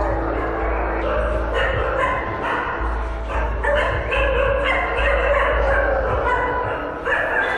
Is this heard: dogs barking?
yes